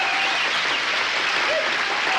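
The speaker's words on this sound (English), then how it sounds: "Fine round of applause for Super Dave Osborne" An audience gives sustained, dense applause for stuntman Super Dave Osborne, steady and fairly loud throughout with no break.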